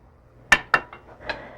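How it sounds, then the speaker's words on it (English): Metal spoon stirring cayenne pepper and cumin into quinoa and black beans in a pot, giving two sharp clinks against the side followed by softer scrapes, close and fairly quiet. "Give that a stir."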